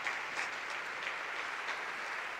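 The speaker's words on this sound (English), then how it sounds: "Big applause for Steve, please." A conference main-stage audience claps for YouTube co-founder and former CTO Steve Chen, a dense, steady wash of applause lasting a couple of seconds.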